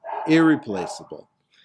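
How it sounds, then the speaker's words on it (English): A dog barks off to one side in a few short, sharp bursts over roughly a second, mixed in with a person's talking voice. "excuse that dog barking over there"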